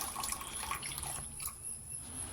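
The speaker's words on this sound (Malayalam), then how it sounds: "ഇനി അതിലേക്ക് നമുക്കൊരു ഗ്ലാസ് വെള്ളം ഒഴിച്ചു കൊടുക്കാം." A glass of water poured into a bowl of soaking almond gum, a soft, faint splashing and trickle lasting a couple of seconds and fading toward the end.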